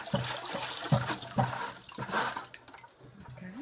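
Water splashes and trickles as aquarium gravel is poured into it, a close, uneven run of pours, gurgles and small drips.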